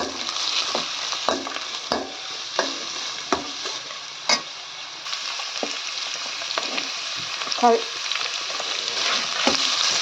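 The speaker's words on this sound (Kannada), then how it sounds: "ಅದನ್ನು ಚೆನ್ನಾಗಿ ಫ್ರೈ ಮಾಡ್ತೀನಿ." Steady sizzling of chillies frying in a pan, with repeated scraping taps of a spatula stirring throughout.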